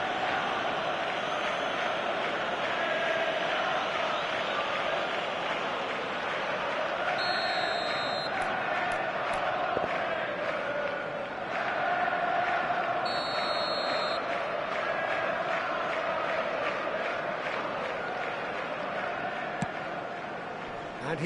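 Simulated stadium crowd in the eFootball 2026 football video game, a steady, dense roar running throughout beneath continuous match commentary, with a couple of brief whistle-like tones.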